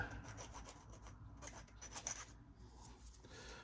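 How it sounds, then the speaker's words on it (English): Steady back-and-forth rasping of a metal file flattening the end of a screw, close up and fairly quiet, with no talking. "So we're just going to file it down"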